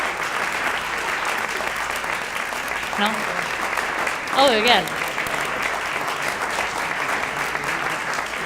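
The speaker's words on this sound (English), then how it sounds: "Please give them a round of applause." Audience applause fills an awards-ceremony hall, a steady dense wash of clapping that carries through the whole stretch, with a few brief spoken words rising over it midway.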